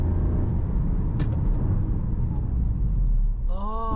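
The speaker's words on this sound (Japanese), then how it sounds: "まずアクセルをしっかり踏んでからのフルブレーキ行ってみます" A Toyota car under full acceleration then hard braking, a loud steady engine and road rumble throughout, ending in a brief rising squeal of tyres or brakes near the close.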